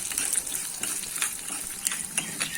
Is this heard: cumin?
yes